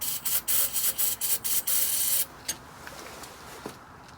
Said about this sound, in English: I'm going to spray some starting fluid down the carburetor.